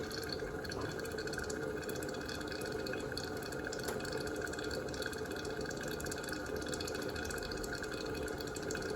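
A Biolite KettleCharge camp kettle boils over, giving a steady, close bubbling and spattering hiss of water that runs without a break and with no talk.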